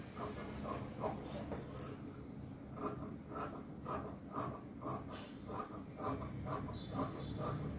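Scissors cut through blouse cloth in a run of soft, crisp snips that repeat at a brisk, steady rhythm, close and fairly quiet.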